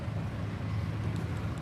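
Mercedes Sprinter all-wheel-drive chassis engine idling on a 2025 Winnebago EKKO 23B with the hood open, a faint, steady low rumble with no other sounds.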